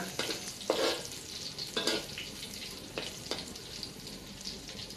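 Minced pork is stir-fried in a pan, with a soft continuous sizzle under several distinct spatula scrapes and stirs spaced about a second apart, close and fairly quiet.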